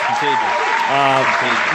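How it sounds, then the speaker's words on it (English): Applause for a panel at the close of a live evening show, a steady broadband wash of clapping lasting under two seconds, with voices talking over it. "Big round of applause for our panel here tonight"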